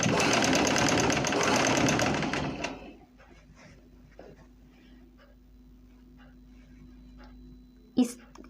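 A sewing machine stitches elastic into trousers, rattling loudly and quickly for a few seconds before stopping. Quiet handling noises and a brief knock follow, with some talking.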